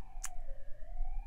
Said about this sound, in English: got a siren going there.